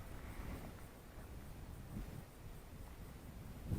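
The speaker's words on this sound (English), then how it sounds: "Every time I come in, the wind picks up." Wind rushes steadily past the microphone at a field where a small sub-100g RC Cub plane, a Dancing Wings J3 FireBird, is flying, a low rumbling buffet with gusty swells and no voices.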